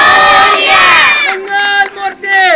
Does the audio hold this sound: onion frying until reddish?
no